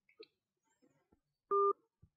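Incoming telephone call signal, a single brief steady electronic tone lasting about a fifth of a second, preceded by faint clicks and short blips in an otherwise quiet line.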